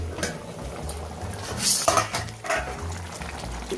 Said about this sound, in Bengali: দশ মিনিট হয়ে গেছে চাপাটা খুলছে